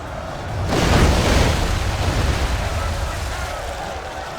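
Catapult and mangonel projectiles striking in a Total War battle, a heavy rumbling impact swelling within the first second and then rolling on as a long, dense roar of debris and battle noise.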